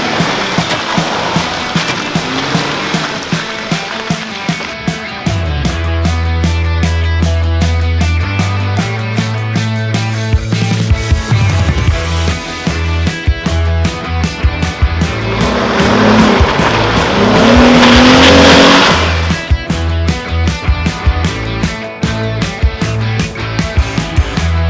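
A car doing burnouts and donuts on an off-road expedition route, engine revving hard and rising through several long bursts while tires squeal loudly in sustained stretches, close and dominant throughout.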